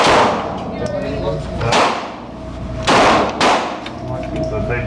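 Glock 17 pistol shots at an indoor range: four sharp, loud, reverberant reports spaced irregularly, the first near the start, then roughly at 1.7, 2.9 and 3.4 seconds, with a hum of range noise between.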